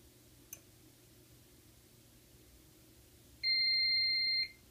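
After a faint click, a fire alarm system's pre-signal sounds: a single loud electronic beep for about a second, a steady two-tone tone in an otherwise quiet room.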